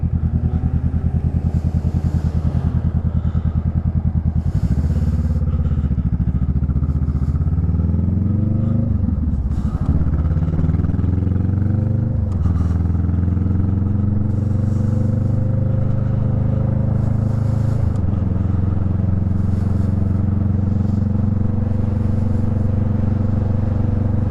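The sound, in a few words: motorcycle riding through an intersection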